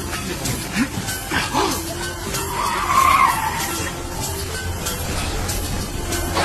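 A car skids with a rising squeal of tires over a dense wash of engine and road noise, loud and close in a busy, noisy scene.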